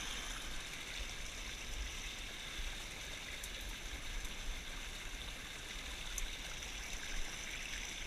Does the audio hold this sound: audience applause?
no